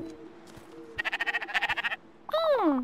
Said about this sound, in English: You bought a second sheep!